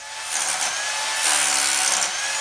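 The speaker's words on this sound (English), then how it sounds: "she's using our roto hammer to remove all the residue and junk off the bottom of the pool" Rotary hammer scraping mortar residue off a concrete pool bottom, a loud close grinding rattle that runs throughout and surges twice.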